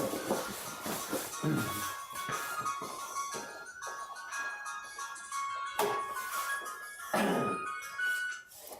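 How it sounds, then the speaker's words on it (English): A telephone rings in repeated electronic bursts, with thumps and shuffling in a quiet room around it. "That noise you're hearing is the phone, the shop phone."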